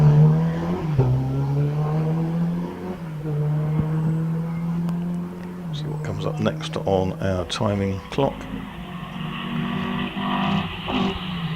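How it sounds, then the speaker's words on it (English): Triumph TR4 climbing a hillclimb course, its engine droning and shifting through gears at a distance, with revs rising and falling under a commentator talking over a PA. "That's Les Olds in the Triumph TR4"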